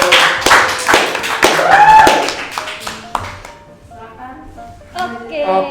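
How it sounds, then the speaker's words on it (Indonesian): A few people in a podcast studio clap in a short, sparse burst of distinct hand claps that thins out into scattered taps, with a voice speaking briefly alongside. "Oke, tepuk tangan dulu."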